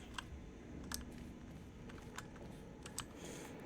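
Typewriters clack in an office setting in Portal 2, scattered sharp key strikes in small bursts over a low steady ambient hum, moderately near.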